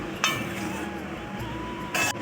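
A utensil clinks twice against a pan while stirring potato-onion chachchari with small puti fish, onion, lentil vadi, salt and turmeric; two short bright metallic taps stand out over a quiet, steady kitchen background.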